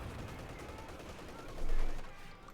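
Gunfire and explosions in a Company of Heroes 2 battle between Panzer units and infantry, a dense continuous crackle of shots with a swelling louder burst near the end.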